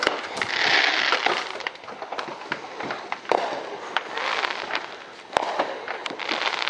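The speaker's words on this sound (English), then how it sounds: "You wanna come watch fireworks?" Fireworks explode in a rapid, irregular series of sharp cracks and crackling bursts, some louder pops standing out over a continuous sizzling rush, fairly close.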